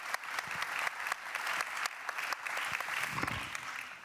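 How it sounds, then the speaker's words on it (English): An audience at a talk on smart regulation for a competitive Europe breaks into steady, sustained applause, dense clapping filling the room from start to finish. "This is your applause."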